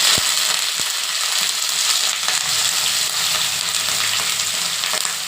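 Brinjal frying in oil with crushed garlic in a pan, a dense, loud continuous sizzle with a couple of sharp clinks near the start and faint stirring scrapes, close and without voices.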